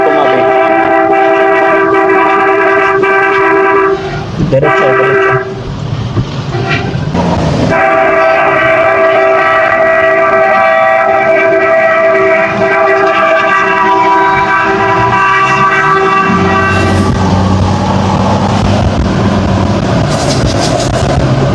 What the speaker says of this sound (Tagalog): Busina para tumabi.